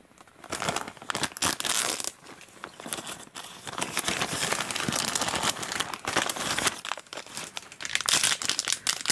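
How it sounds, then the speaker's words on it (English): Resealable plastic packaging for an iPhone 5s case crinkles loudly and continuously close to the microphone, with bursts of rustling and tearing-like crackle throughout. "Why they put a resealable package on here, I have no idea."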